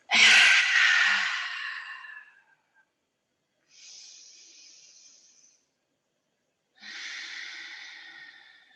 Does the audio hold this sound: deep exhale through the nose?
yes